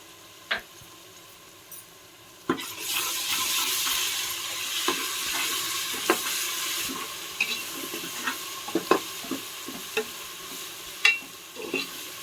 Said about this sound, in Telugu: అల్లం పేస్ట్ పచ్చి వాసన పోయే వరకు వేసుకోవాలి